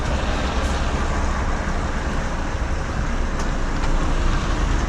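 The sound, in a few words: lorries and road traffic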